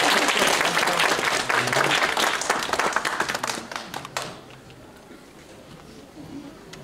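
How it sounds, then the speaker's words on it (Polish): Loud audience applause welcomes a young performer to a Christmas carol recital in Katowice, a dense burst of clapping that thins out and fades to quiet after about four seconds. "No to gromkie brawa,"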